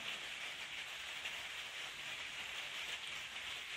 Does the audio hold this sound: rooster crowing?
no